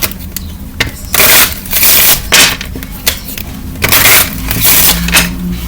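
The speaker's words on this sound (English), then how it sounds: "I'm gonna shuffle a few more times and then we're gonna see if you're gonna get your wish." A deck of cards is shuffled in loud, close bursts of rough riffling and scraping, several separate passes with short pauses between them.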